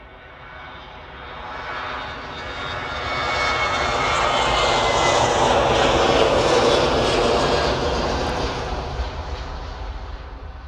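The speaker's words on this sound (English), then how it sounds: "Just hiding behind all the aircraft waiting to depart." Aircraft engines at Manchester Airport, a loud broad roar that swells and holds steady for several seconds as planes wait to depart, with no talk over it.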